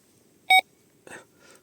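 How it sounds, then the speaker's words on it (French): An electronic sensor gives a single short, sharp beep as a banner is pulled, followed by faint rustling and handling noise in an otherwise quiet room. "Voilà, le troisième bip a lieu."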